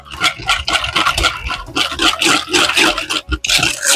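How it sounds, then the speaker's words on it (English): A whisk beats Parmesan cheese into a celery and lemon vinaigrette, giving a busy, continuous scraping and sloshing with rapid irregular strokes, close and fairly loud throughout. "Whisk it a little bit."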